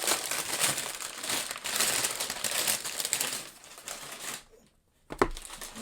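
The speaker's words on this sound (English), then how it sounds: "Let me get them out of the paper here." Crinkling and tearing of paper packaging as knives are unwrapped, a continuous loud rustle that stops abruptly, then a short thud.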